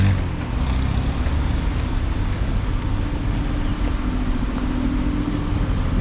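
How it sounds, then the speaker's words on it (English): Stopped traffic on Tanao Road in Bangkok gives a steady, close roadway rumble of idling cars, buses and trucks, a continuous low drone with no clear passes. "The traffic is all kind of stopped."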